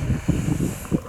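Wind buffeting a microphone on an outdoor walk near Denbigh Castle: low, rumbling gusts that rise and fall in uneven bursts, close and fairly loud, with no voices over it.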